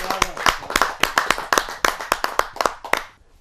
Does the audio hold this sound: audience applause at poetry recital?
yes